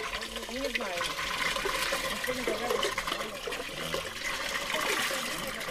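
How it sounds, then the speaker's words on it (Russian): Water running from a village street pump, a continuous trickling flow with people talking over it. "Ту жидкость, что течет из колонки"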